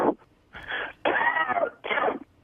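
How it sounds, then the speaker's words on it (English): A person coughs in three or four rough, wheezy bursts spaced about half a second apart, close and fairly loud with no talk between them. "What is this coughing thing?"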